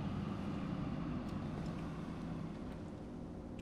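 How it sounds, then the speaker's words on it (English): A ferry boat's engine runs in a video game, a steady, continuous low rumble that holds at an even level throughout with no talking. "Listen to her engine purr."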